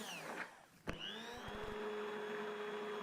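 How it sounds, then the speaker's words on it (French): An immersion blender whirs steadily through salted butter caramel made with fleur de sel, starting after a sharp clunk and a few knocks, then holding a constant motor drone close by with no talking. "Et je mixe l'ensemble à l'aide d'un mixeur plongeant jusqu'à obtenir un mélange à la texture homogène."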